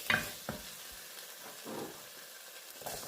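A pan being scraped after Worcestershire sauce goes in for ham hock baked beans, with a quiet hissing sizzle, a sharp clank at the start, and a few soft scraping strokes.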